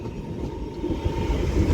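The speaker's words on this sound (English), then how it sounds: "Departs Manchester Piccadilly now with the 15:39 Northern service to Alderley Edge" A Class 323 Northern electric train pulling out of Manchester Piccadilly, a steady rumbling roar with a faint tonal whine and rising wheel noise, heard from the platform without speech.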